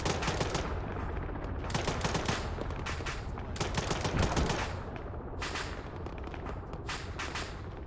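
Sustained automatic gunfire aimed at hostile paratroopers in a military shooter game, with dense overlapping bursts rolling continuously and loud throughout, no voices heard.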